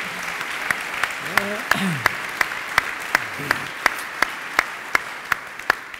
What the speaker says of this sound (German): Hochverdienter Applaus.